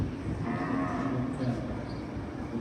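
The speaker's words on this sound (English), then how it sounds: "All of the cattle look really great" Gray Brahman cattle at a livestock show give a long, steady moo that carries over a low crowd murmur in a show barn.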